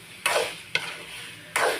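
Food sautés in a pan with three quick stirring scrapes over a low sizzle, each stir a short, loud burst.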